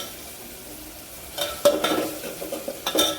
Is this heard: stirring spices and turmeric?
yes